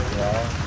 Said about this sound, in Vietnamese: Quá mưa.